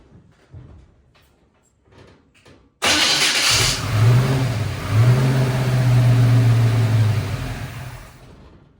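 An old car engine cranks and fires on a splash of fuel, roaring up abruptly and running rough and loud for several seconds before fading, heard close with no talk.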